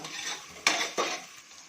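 Ginger garlic paste for veg biryani sizzles in a pan while a utensil stirs it, with two sharp scrapes standing out against the steady, close frying hiss.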